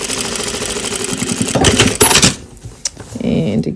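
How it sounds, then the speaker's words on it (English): A sewing machine stitches fabric up close, a loud rapid mechanical chatter for about two seconds, then a pause with a light clack before a short burst of running resumes. "And I will sew it from the underside up."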